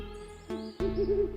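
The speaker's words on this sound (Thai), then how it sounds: "เสียงนกฮูกร้องให้คนช่วย" A series of wavering hoots over a steady background, with one burst early on and a longer run of warbling calls in the second half.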